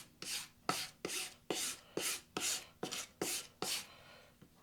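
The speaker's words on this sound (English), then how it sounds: "Let's see what happens if we file card this." A file card brushes rust off a metal file in an axe shop, about nine evenly spaced scraping strokes, each a short bright rasp, up close with no talking.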